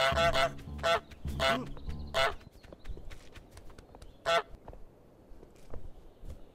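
Untitled Goose Game goose honks loudly several times in quick bursts, then again once later, with softer footsteps and clattering in between.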